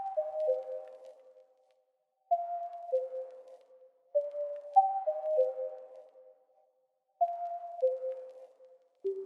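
Synth pattern from ANA 2 treated with chorus, limiter, delay and plate reverb: soft, clean bell-like notes in short descending phrases, each echoing and fading into silence, repeated in a sparse rhythm.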